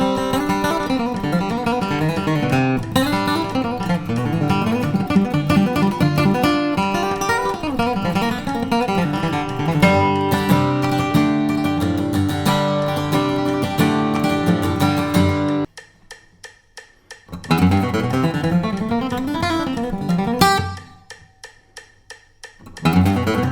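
Flatpicked bluegrass guitar plays a fast break on Black Eyed Susie at 180 BPM. A steady stream of bright picked notes runs over a backing track, which briefly drops out twice while the guitar keeps going.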